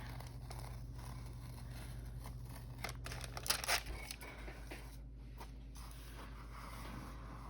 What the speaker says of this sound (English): I will chop this piece of parchment paper off